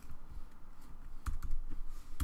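Typing on a computer keyboard while writing an image description for an artist website: a steady close patter of key clicks with a few heavier strokes, no voices.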